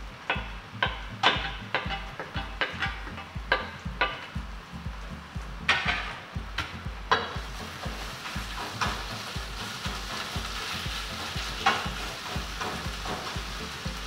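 Chopped onion and four cloves of garlic frying in a pan, giving a steady close sizzle with a run of sharp clinks and scrapes from a stirring utensil early on, easing into a smoother hiss.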